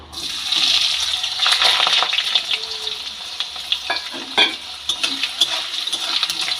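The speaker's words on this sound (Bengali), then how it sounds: "এবার একটা ছোট আলু আমি কেটে নিয়েছি সেই আলুটা তেলের মধ্যে আমি দিয়ে দিলাম" A small cut potato frying in hot oil with dried chilli, giving a loud, steady bubbling sizzle close by with intermittent stirring clatter, and no talk.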